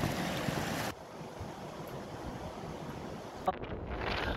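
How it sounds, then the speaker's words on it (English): Strong, steady wind blows at the start of Glen Sannox, a mountain glen on the Isle of Arran. It roars and buffets the microphone throughout with no speech. "this is the start of Glen Sannox and it's very, very windy"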